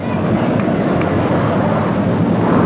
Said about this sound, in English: There was a jet high overhead.